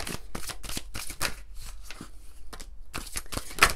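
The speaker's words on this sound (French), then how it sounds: "on va prendre quelques cartes de l'oracle des miroirs" Oracle cards being shuffled by hand, a rapid series of papery riffling bursts with short pauses between them, close and clear with no talking.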